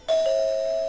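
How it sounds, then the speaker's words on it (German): A doorbell chimes once in the point-and-click game Zak McKracken and the Alien Mindbenders, a clear electronic ding that rings out loud and sustains evenly to the end. "So, wir drücken natürlich erstmal die Klingel."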